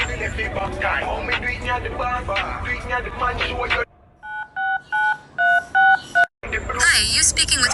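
A sequence of seven telephone keypad tones pressed one after another in an otherwise quiet stretch, clear and evenly loud, with a short pause between each, set between stretches of lively talk and background noise.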